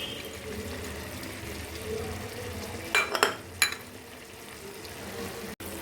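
Chicken roast with sugar and fried onions being stirred in a pan, giving a steady soft sizzle with a few sharp scraping clatters of the spoon midway, with no talking.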